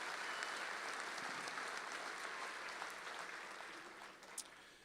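An audience at a college commencement ceremony claps for faculty marshals, a steady, moderately distant wash of applause that thins slightly toward the end.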